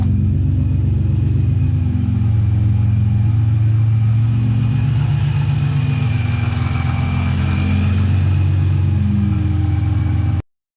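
Nissan 350Z with a Vortech supercharger, newly running after wiring and ECU repairs, holds a steady loud idle with deep low rumble and a faint whine above it, close by and alone before cutting off abruptly at the end.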